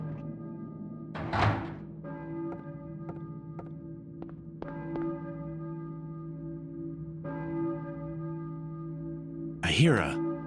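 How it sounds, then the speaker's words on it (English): A church bell in the video game Silent Hill tolls repeatedly with long, ringing overtones, its strikes spaced a second or so apart, over a low steady hum and a couple of louder thumps. "I hear a church bell, maybe? Who's ringing the bell?"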